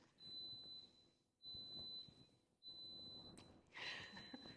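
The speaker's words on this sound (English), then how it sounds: "Y'all hear the beep? The goat yogurt's done." A yogurt maker sounds three long electronic beeps in a row when goat yogurt finishes, separated by brief pauses, high and piercing against a quiet background.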